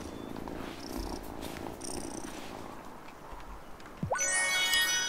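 A cat purrs in the farming life-sim game Wylde Flowers, a soft steady rumble running through the whole stretch, with a bright chiming jingle sweeping up near the end; no one speaks.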